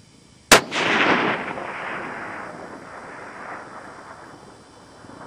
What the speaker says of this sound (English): Fourth shot,